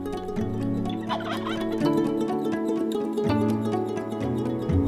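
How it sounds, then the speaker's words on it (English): Wild turkeys gobble repeatedly in the distance in Montana, their rattling calls overlapping outdoors with no one speaking. "Turkeys are gobbling, boys."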